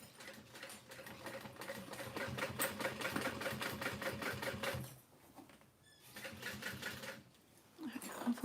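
A sewing machine runs along binding in bursts, a close rhythmic mechanical whirr and clatter that stops briefly twice before starting again, with quiet talk underneath.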